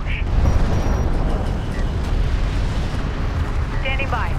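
Explosions as vehicles are destroyed in the real-time strategy game Homeworld: Deserts of Kharak, a dense continuous rumble of booms and blasts with brief electronic alert tones near the end.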